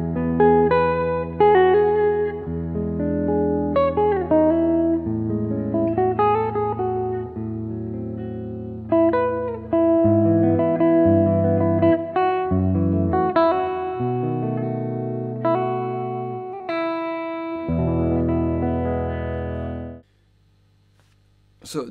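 An Epiphone SG G-400 electric guitar with neck and bridge pickups mixed plays a clean melodic riff of single notes and chords, clear and upfront, ending in a brief pause.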